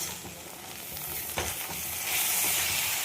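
Red amaranth greens frying and being stirred in a pan, a close, crackling sizzle with scraping stirs that swells louder toward the end, no voices.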